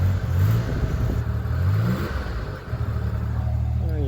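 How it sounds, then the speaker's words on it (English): An idling Buick car engine, a low-mileage one-owner car running on old bad gas, is revved up and settles back, a steady near mechanical drone with rising pitch sweeps. "Let's rev it up a little bit."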